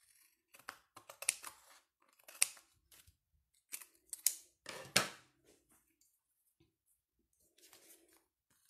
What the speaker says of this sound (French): On coupe ce qui dépasse.